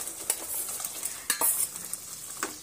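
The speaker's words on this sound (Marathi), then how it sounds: "आता ह्या स्टेपला आपल्याला जे आपण शेवगा शिजवून घेतला आहे हा घालायचा आहे।" Cooked drumsticks go into frying masala along with their cooking water, giving a bright sizzle broken up by several sharp clinks as a spoon stirs the pan.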